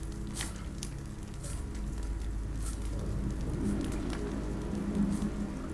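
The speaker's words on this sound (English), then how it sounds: "This rain will turn to sleet." Rain falling in The Walking Dead game, a steady soft patter and drizzle with scattered drips, continuous and moderately quiet, with no voices.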